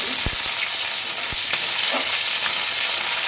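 Sliced onions tossed into hot oil with bay leaf, a loud dense crackling sizzle throughout, with a couple of dull knocks from the spatula early on.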